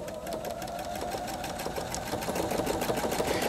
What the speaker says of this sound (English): just start sewing